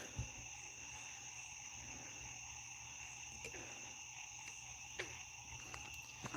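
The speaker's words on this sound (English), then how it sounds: "Y'all hear them frogs going nuts?" Steady high-pitched trilling of frogs at night fills the background, with a few faint clicks and taps scattered through.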